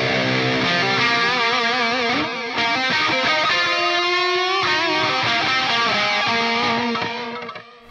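Distorted metal/djent electric guitar lead run through an HX Stomp Mod Chorus Echo delay, a loud, lush, continuous stream of sustained harmonic-rich notes with a brief dip near two and a half seconds and a trailing fade at the end.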